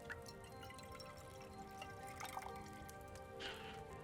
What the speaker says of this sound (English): pour the potion